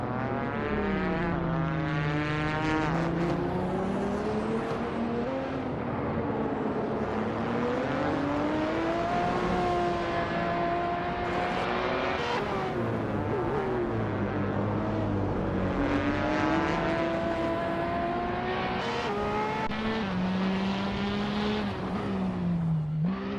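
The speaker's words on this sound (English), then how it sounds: "The race is underway at the Indianapolis GP track in the GTE class" A 2018 Ferrari 488 GTE racing in the GTE class at the Indianapolis GP track in a video game, its engine note rising and falling through gear changes, loud and continuous alongside other cars for the whole stretch.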